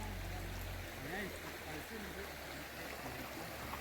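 A forest stream runs with clear water beneath a rock, its steady broadband rush continuous and fairly close, with a low rumble underneath and no voices.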